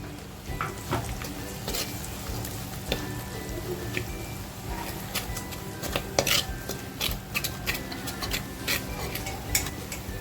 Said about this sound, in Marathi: तो मसाला टाकून अगदी छान फ्राय करून घ्यायचे